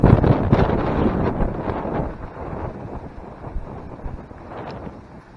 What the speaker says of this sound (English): It is really windy on top of this spot.